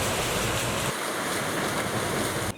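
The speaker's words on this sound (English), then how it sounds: "That water wheel that I just showed is outside of the oldest bakery in Salzburg, and it's used to grind the flour" A water wheel turns outside the oldest bakery in Salzburg, where it drives a flour mill, its rushing, splashing water a loud and continuous wash with no voices.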